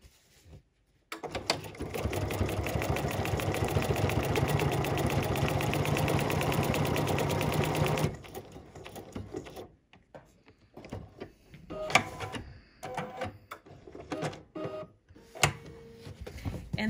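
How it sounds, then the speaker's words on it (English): A sewing machine runs steadily for about seven seconds, stitching an eyelet in white thread for a decorative stitch book. It whirs loudly and evenly, then stops, and softer clicks and handling noises follow. "I'm gonna stitch an eyelet"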